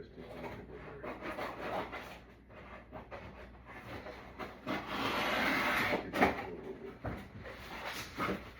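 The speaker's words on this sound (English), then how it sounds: "I gotta go cut some 40 or 24 inch corrugated cardboard." Corrugated cardboard, 24 to 40 inches, is cut up close for packing: scraping, rasping cuts come in bursts, with a longer rough tearing stretch partway through, fairly loud and without speech.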